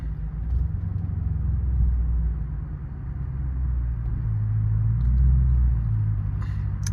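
A 400+ horsepower Chrysler 300 Hemi rumbles deep and steady from inside the car on a night drive, swelling slightly as it pulls, with faint light clicks near the end.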